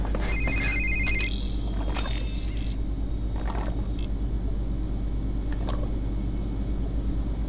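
A telephone rings in the video game 007 Quantum of Solace, a short electronic trill over a constant low rumble of game ambience, with a few faint higher tones scattered around it.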